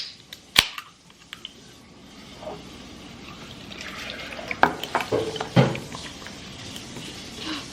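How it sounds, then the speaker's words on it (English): A sharp click opens a can, then soda pours and fizzes into a cup over ice, with crackles and ice clinking close by. "I'm gonna pour it in a cup over ice"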